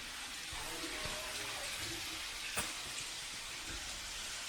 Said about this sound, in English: Got some little waterfalls.